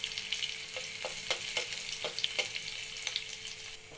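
Chopped garlic fries in half a spoon of mustard oil in a wok, giving a steady bright sizzle with scattered soft clicks of a spatula. The frying stays close and even throughout, with no voices.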